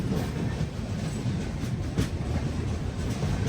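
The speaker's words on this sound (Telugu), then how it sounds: "సో సికింద్రాబాద్ కాగజ్ నగర్ ఎక్స్ప్రెస్ ఇది." A Secunderabad–Kagaznagar Express train rolls along steadily, a close, continuous rumble with faint rhythmic clatter from the wheels and no voices.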